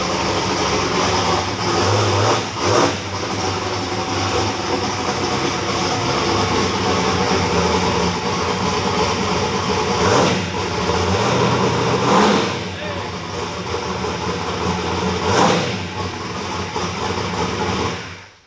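A loud car engine roars continuously on a dyno in a shop, surging through repeated revs and swells before dropping away at the end.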